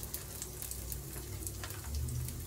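Japanese yakisoba noodles frying in a pan, alongside sautéed onion. The pan gives off a soft, steady sizzle and crackle with faint stirring, and no one speaks.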